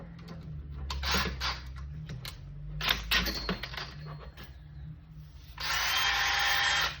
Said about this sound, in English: High quality hammer drill. This is gonna get that brush spinning.